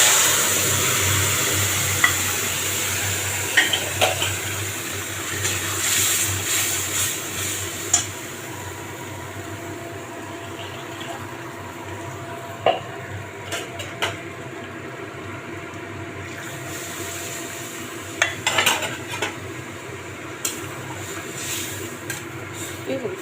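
Turmeric sizzles in hot oil in a pan for fish curry, a steady soft frying hiss with scattered stirring clicks and scrapes throughout.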